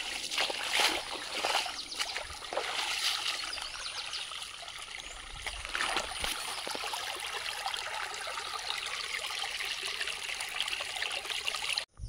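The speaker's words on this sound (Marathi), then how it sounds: "शेतावर जातात असा मस्तपैकी छोटासा झरा लागतो" A small stream trickling beside a farm path in the Konkan countryside, a steady watery babble with occasional louder splashes, close and continuous, with no talk.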